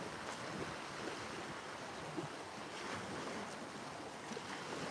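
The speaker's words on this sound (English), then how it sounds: "The waves are crashing there behind me." Steady wash of wind-driven waves breaking on the lake shore at Santee Cooper, a continuous rushing surf with gusty wind noise and no distinct individual crashes, heard alone without talk.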